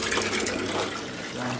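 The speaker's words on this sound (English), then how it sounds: "I'm over here filling it with water" Steady gushing water pours into a Carrier water-cooled air-conditioning unit, a continuous loud rushing fill with no pauses, close to the microphone.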